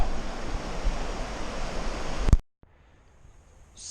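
Rushing water of Bear Creek on a John Muir Trail hike, a loud, broad roar of the creek flowing close by for a couple of seconds, then cutting abruptly to near silence.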